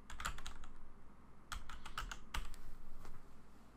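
Someone types a filename on a computer keyboard, close and clear, in two quick bursts of keystrokes with a short pause between them.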